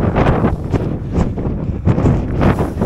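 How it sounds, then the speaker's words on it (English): Strong wind buffets the microphone on an exposed mountain ridge along the Crib Goch knife edge, a loud continuous roar with gusting surges throughout and no voices. "How's the wind? How bad's the wind there?"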